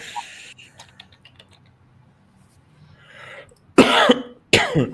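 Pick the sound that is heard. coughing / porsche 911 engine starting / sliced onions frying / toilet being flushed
coughing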